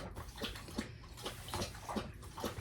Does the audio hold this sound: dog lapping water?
yes